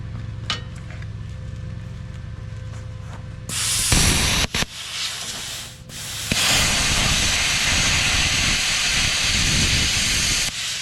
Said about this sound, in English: We'll crank it up to 35 and see if we can cut through this.